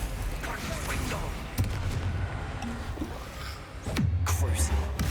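In the Hogwarts Legacy video game, a Confringo blasting spell goes off amid a dense, booming battle soundscape of rumbling blasts and crackling impacts, with a shouted incantation heard over the din.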